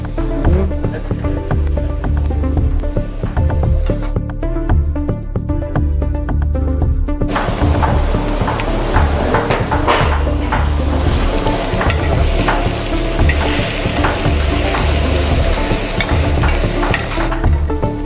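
Vegetable stir fry with kebab being stirred in a hot pan in a cafeteria kitchen, a continuous loud sizzle and frying hiss with scraping strokes of the utensil, briefly quieter midway before the sizzle swells again.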